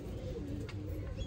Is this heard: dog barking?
no